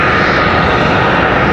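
American Airlines A320 jet departing Charlotte Douglas airport for Oklahoma City, a loud, steady engine roar filling the whole moment without pause.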